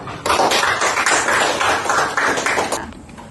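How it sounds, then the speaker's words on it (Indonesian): A group claps for a classroom presentation, a dense burst of many hands lasting about two and a half seconds before fading out quickly. "Kita berikan aplaus untuk hasil presentasinya."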